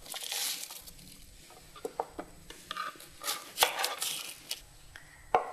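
Knife chopping potatoes and carrots into thumb-thick pieces in a kitchen, with irregular light taps and scrapes on a board and some clinking of utensils, fairly quiet and close, with no talking.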